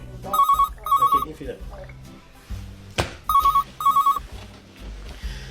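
A telephone rings in a Kabyle film scene, giving four short ring bursts in two pairs, with people talking in between.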